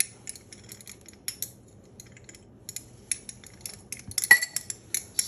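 Meat tenderizer being stirred in with a stirrer makes light metallic clinks and taps against a container, scattered and irregular, close and fairly quiet.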